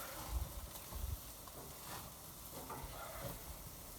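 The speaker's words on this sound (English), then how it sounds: "And then put the onions on the grill." Onions sizzle faintly on a grill for burgers, a soft, steady crackle with a couple of low thumps near the start.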